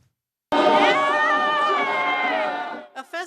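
Tens of thousands gathered for the March for Israel rally on the National Mall in Washington, producing a loud, sustained roar of crowd cheering and shouting that swells suddenly and carries for about two seconds before fading into scattered voices.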